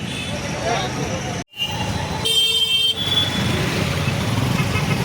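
Traffic hums at an auto rickshaw stand by the bus station in Kolhapur, with engines idling, a sudden brief cutout, then a sustained horn toot and continuing street noise, close and busy.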